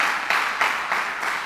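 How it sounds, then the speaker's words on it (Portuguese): A church congregation claps during a sermon, a brief, loud burst of many hands that pulses in a few rhythmic waves, with no voices over it. "Dá um aplauso ao Senhor."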